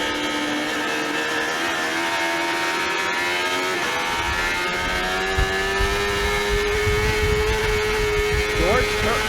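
Sportbike motorcycles in an AM Sportbike amateur race whine continuously through corners and onto the back straight, engine pitch rising and falling as they pass, with a commentator talking over the engines.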